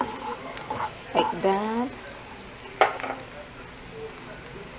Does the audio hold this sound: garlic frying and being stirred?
yes